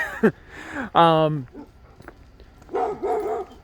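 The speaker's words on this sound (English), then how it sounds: "sorry about the dog, guys." A dog barks near a speaking voice, with a sharp yelp at the start and a longer bark around one second, then faint sounds and more talk-like sound after.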